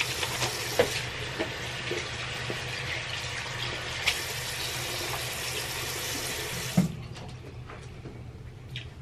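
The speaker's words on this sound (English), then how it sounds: "So I'm actually gonna wash my hands because I've been outside." Tap water runs steadily into a bathroom sink as hands are washed before a face mask, a loud continuous hiss with a few small splashes and knocks, easing off near the end.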